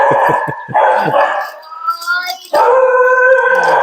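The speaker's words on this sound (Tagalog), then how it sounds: "Dami aso na." Several dogs bark and howl close by, overlapping yelps and drawn-out wails in a noisy chorus with no talking.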